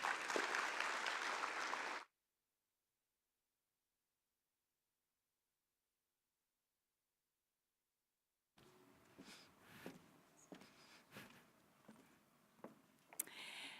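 Applause from a conference audience at a national electric vehicle summit, a loud burst at the start that cuts off, then after a long silence a second round of scattered clapping with a few sharper claps.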